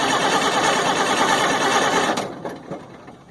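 A CAT 3116E diesel engine in a 1998 GMC C8500 truck with a fuel-flow problem cranks in a loud, close, steady whir that cuts off after about two seconds, leaving faint clicks and rattles.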